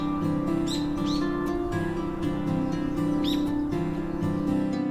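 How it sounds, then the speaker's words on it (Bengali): A few bright bird chirps from a forest ring out in short bursts over a steady, sustained musical drone. "বনের ভিতর বিভিন্ন প্রজাতির গাছপালা, পশু পাখির কলতান, আর পোকামাকড়ের মৃদু শব্দ"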